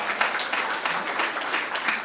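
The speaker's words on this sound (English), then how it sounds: "Let's give Colin a round of applause" Audience of children applauding at an elementary school assembly, a continuous bright clatter of many hands, steady and fairly loud with no talking.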